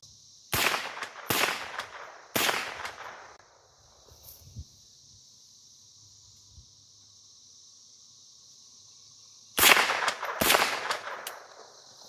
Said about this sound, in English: Even rapid firing, scoring hits at 100 yards with this.